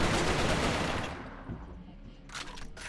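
Dense video-game gunfire bursts loudly in a rapid, sustained volley for about a second, then cuts off, leaving a quieter tail with a brief rattling burst near the end.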